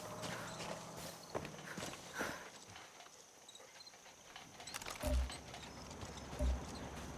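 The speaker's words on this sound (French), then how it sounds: "Ah, c'est un cheval." Horse hooves clip-clop in the video game Far Cry 6. Soft, steady hoofbeats move at a walking pace over a quiet outdoor game ambience, with no one speaking.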